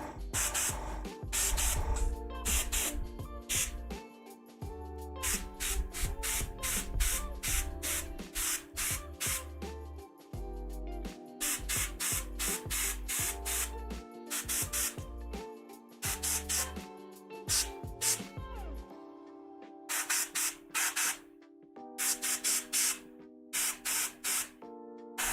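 An airbrush sprays paint in repeated hissing bursts of varying length, with short gaps between passes and a faint compressor hum underneath, close and fairly quiet throughout.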